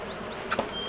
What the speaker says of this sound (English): there are bees going in and out of it